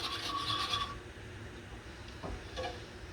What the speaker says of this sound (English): you can just take a whisk and you'll whisk that out